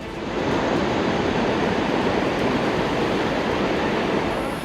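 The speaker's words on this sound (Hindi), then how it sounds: "दहाड़ मारती मटमैली लहरें" Muddy floodwater waves roar in a loud, steady, unbroken rush of dense broadband noise lasting throughout, with no voices.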